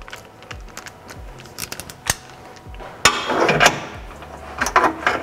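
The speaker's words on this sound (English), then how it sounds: "we're going to be tightening these bolts down" Metal tools clicking and clanking on a car motor mount as bolts are tightened with a wrench on a Toyota GR86/Subaru BRZ, sharp close ticks and knocks in irregular bursts, with a louder rattling stretch midway.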